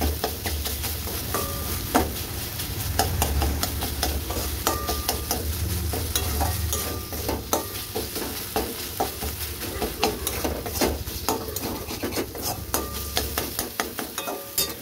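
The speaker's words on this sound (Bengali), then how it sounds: "আমি এটাকে এটার সাথে মিশিয়ে দেবো।" Softened eggplant being stirred and mixed in a pan, with steady scraping and clicking of the spoon over a low continuous sizzle, close and fairly loud, with no talking.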